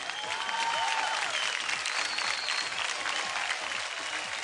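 A studio audience at a DID Doubles dance show grand premiere breaks into loud, sustained clapping, with a few whistle-like cheers rising over the dense applause.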